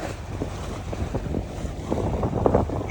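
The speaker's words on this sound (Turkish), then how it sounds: "Bir anda rüzgar sıfır olan rüzgar ona çıktı." Strong gusting wind buffets a sailing boat as it comes alongside a harbour quay at Turgutreis customs, with broadband wind roar, microphone buffeting and water splashing against the hull, steady and close throughout.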